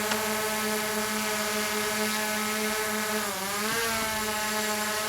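A small camera drone's propellers spin in a steady, loud, close whine with strong tonal harmonics, pitch dipping and wavering briefly as it manoeuvres, no talk.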